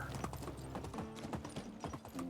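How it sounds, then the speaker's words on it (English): Donkey hooves clip-clop steadily while riding in the Medieval Dynasty video game, a brisk regular walking rhythm, close and fairly loud with no talking. "Let's see about getting off Miss Donkey and finding the quest giver"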